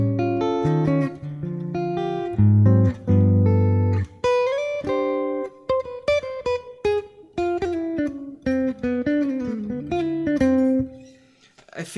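An electric guitar played through its neck single-coil pickup: strummed chords open the phrase, then a run of clear picked single notes and bends, moderately loud and close, ending in a quiet fade.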